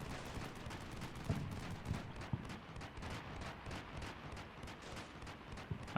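Preparatory gunfire raking buildings in Combat Mission Shock Force 2, a continuous, fairly distant crackle of rifle and machine-gun bursts with a few sharper nearer shots standing out.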